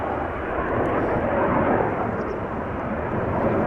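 A business jet takes off at Amsterdam Schiphol Airport, giving a steady, loud broadband engine roar that holds evenly throughout with no voices.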